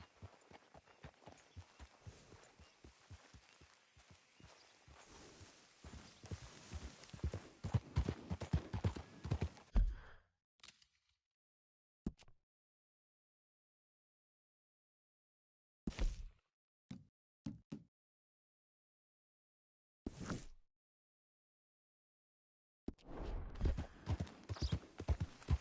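Horse hooves clip-clop in the Red Dead Redemption 2 video game, a quick run of steady hoofbeats at first that breaks off into scattered single thuds and short bursts separated by silence, then resumes near the end.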